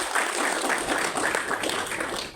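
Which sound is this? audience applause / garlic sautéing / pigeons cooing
audience applause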